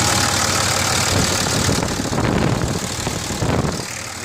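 A 2006 Cummins diesel engine idles at close range with a dense, steady clatter; a ticking noise is buried in the engine's overall rattle.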